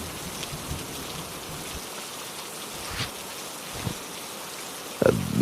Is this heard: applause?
no